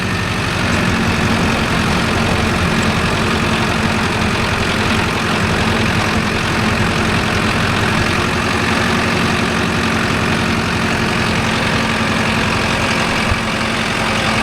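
A Mahindra Arjun Novo 605 DI tractor engine runs steadily throughout, a loud, close, continuous diesel idle with a low rumble and constant knocking texture while working a rotavator on farmland.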